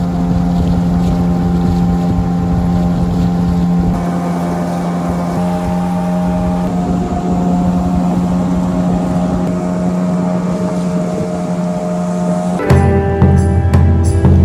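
Motorboat engine pushing upstream on the Kanyau River, a steady loud drone with constant pitch for the whole stretch, mixed with wind buffeting, then a sharper burst of rattling noise near the end.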